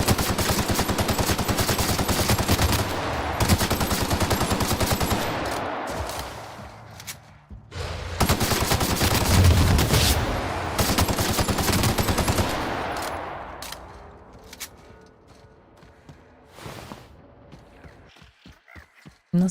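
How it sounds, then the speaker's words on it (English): Bursts of assault rifle fire from The Outer Worlds, loud sustained automatic volleys in two long stretches with short pauses, tapering into scattered single shots and quieter game ambience toward the end. "Assault rifle doing somewhat okay"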